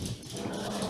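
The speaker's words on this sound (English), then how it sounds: "Sorry about my dogs." Dogs in a home podcast setting make a brief, muffled burst of barking, low in level and blurred into the room noise.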